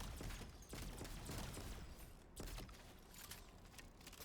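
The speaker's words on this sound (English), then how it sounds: "The double pack ray gun, still doing justice." Double pack-a-punched ray gun fire in Black Ops 7 Zombies, with dense, continuous bursts of blasts and impacts sustained throughout, loud and busy with mechanical clatter mixed in.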